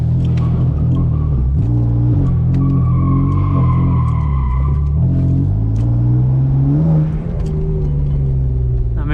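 BMW M4 launching hard under launch control, a loud engine roar that climbs and drops through several rev changes, heard close from inside the car.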